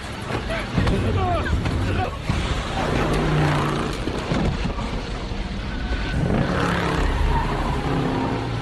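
A car speeds up hard to a high velocity, its engine roar rising under loud rushing wind and road noise, with frightened voices shouting over it.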